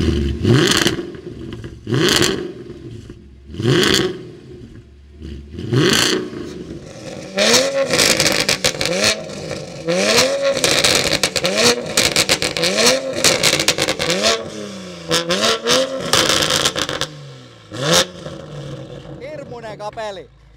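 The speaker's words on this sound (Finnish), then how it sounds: "Kuunnellaan tähän väliin vielä, että millain myllyt mylvii" Toyota Supra and a 6.2L V8 AMG Mercedes S211 wagon revving at a drag race, repeated loud rising engine roars, first spaced bursts then rapid overlapping revs, close and prominent with talking in between.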